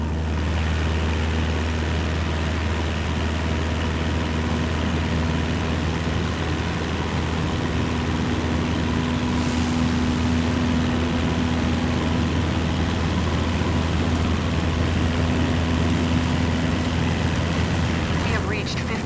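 Airplane engine droning at full takeoff power in Microsoft Flight Simulator 2024, a steady, loud, low roar held evenly without letup.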